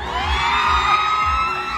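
An audience at a live show screams and whoops in a sustained burst, with high-pitched shrieks layered over each other throughout the short clip.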